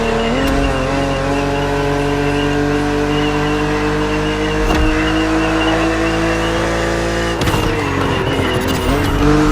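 A BMW Z roadster races in The Crew Motorfest, its engine holding a steady loud drone with shifting pitch, tires squealing and skidding, and a couple of sharp bursts near the start, middle and end.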